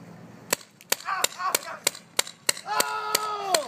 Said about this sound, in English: Just start shooting him.